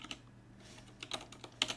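Someone types on a computer keyboard nearby, a short, sparse burst of soft, quiet key clicks with no talk.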